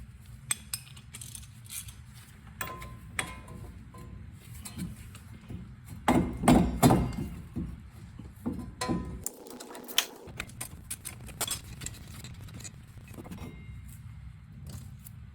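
Metal parts clicking and knocking as guide rods are pulled from a brake caliper on a GMC Sierra pickup during a brake change, with a louder burst of scraping clatter near the middle and a brief quiet gap after.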